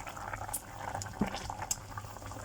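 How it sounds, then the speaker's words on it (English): Steady bubbling of chicken pieces in a pot at a rolling boil, with small pops and gurgles throughout, fairly close and moderate in volume. "So as you can see, the chicken is boiling"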